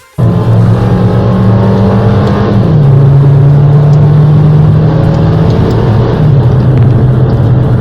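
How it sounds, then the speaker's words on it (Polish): A viewer's chipped car idles and revs, a loud, close engine roar held steady with brief shifts in pitch throughout, with no talking. "wysłał dźwięk silnika"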